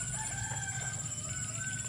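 A new swiftlet call recording plays at a swiftlet farm, giving steady high-pitched chirping and twittering that stays continuous and fairly loud throughout, with no talk.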